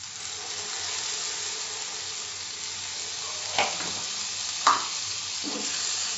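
Spice masala with turmeric and a splash of water stir-fried in a pan over medium flame for Andhra-style boiled egg fry, a steady close sizzle throughout with two brief spoon scrapes near the end.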